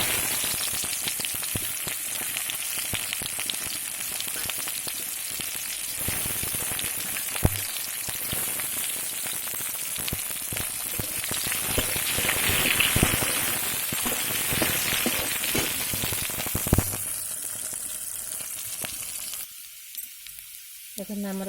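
Onions fry in hot oil with bay leaf and cumin for a village-style cauliflower curry, giving a steady, close crackling sizzle that runs throughout before cutting off sharply near the end.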